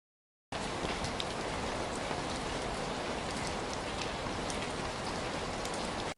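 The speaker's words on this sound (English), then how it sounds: "I don't know if you can hear the rain, but I I hope you can." Steady rain falls without a break, a dense, even hiss of drops hitting surfaces, no voices.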